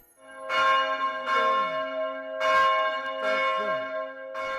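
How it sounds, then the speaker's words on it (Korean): Three heavy church bells hang in a five-storey bell tower and are swung by hand on ropes, ringing loud, resonant strokes in alternation, roughly one every second, each leaving a long humming decay. "3분 가까이 3개의 종이 번갈아 울립니다."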